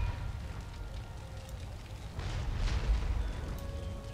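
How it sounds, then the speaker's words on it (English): Cannons firing on a battlefield in the video game Empire: Total War, heard as a continuous low rumble of distant booms with a louder surge toward the end, no talk over it. "my cannons are still firing"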